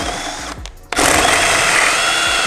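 A Ryobi RAD18C cordless angle drill-driver runs at second speed, whirring close up after a brief pause, then holding a steady high-pitched motor whine under load.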